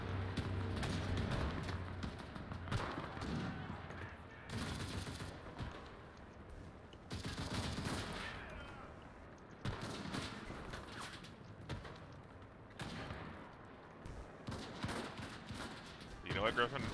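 Rapid submachine gun fire from an MP40 in a World War II trench-warfare video game, with loud bursts and volleys of gunfire running through the whole stretch, mixed with other battle noise.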